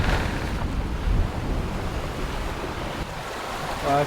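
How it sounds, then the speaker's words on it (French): Ocean waves washing around a sailboat on a solo Atlantic crossing, a steady rushing wash with wind noise on the microphone, with no voices. "là c'était une vague"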